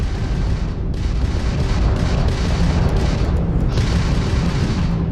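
Crimson Fleet ship weapons firing during ship combat in Starfield: dense, rumbling booms and bursts that run continuously and loud throughout.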